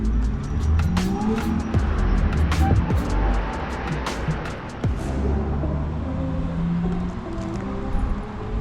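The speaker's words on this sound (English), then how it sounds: "you probably can't hear me because of the motorway" Motorway traffic drones nearby as a steady broad roar, with cars hissing past and tyres whining over the asphalt in a continuous, fairly loud wash.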